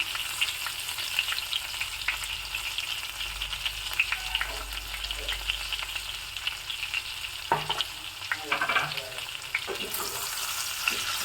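Okra frying in a pan on low heat, steadily sizzling while it is stirred, with scraping stir strokes and a few clattering knocks toward the end and no talking.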